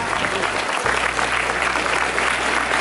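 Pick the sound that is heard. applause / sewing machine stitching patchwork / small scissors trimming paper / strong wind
applause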